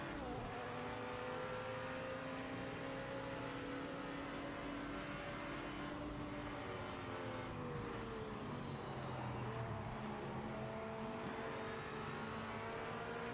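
A 1987 Mercury Cougar GTO-class race car engine roars steadily in a racing video game, droning and revving with shifting pitch and a brief higher whine around the middle, loud and continuous with no talk.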